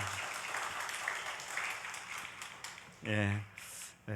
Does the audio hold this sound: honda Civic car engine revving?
no